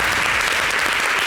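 Studio audience applause on a French talk show, dense and steady clapping filling the whole moment at close range, with no voices over it.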